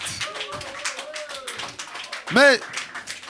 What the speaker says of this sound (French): Applaudissez le poète.